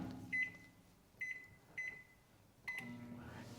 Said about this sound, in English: put them into the microwave for 1 minute to just cook them and blanch them